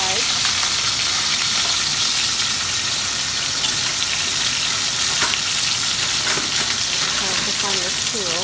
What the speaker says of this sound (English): the lamb shank straight into the hot oil, and I try to fry both sides.